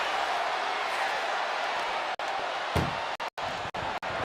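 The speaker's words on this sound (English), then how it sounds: "And boom, the door shut and there's the winner." A vehicle door in the WWE 2K24 ambulance match slams shut with a sharp, loud thud at mid-clip, standing out over a steady roar of arena crowd noise, followed by a few quick dropouts.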